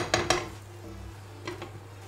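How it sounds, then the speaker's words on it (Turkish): Rice pilaf being turned over in a pot, two sharp metallic clinks of a spoon against the pot at the start, then softer scraping and tapping over a low steady hum. "Pilavımızı bu aşamada bir kere karıştıralım."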